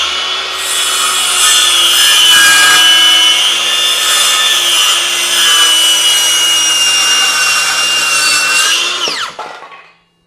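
A Craftsman V20 cordless saw on a fully charged 6 amp-hour battery rips through thick wood with a loud, sustained motor whine and cutting roar, then the electric brake winds it down quickly to silence at the end.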